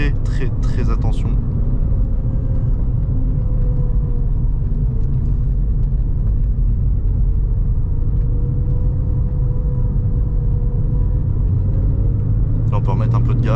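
Porsche 996 4S engine on the move, a steady low rumble and drone from inside the car that holds even and continuous, with brief noises at the start and end.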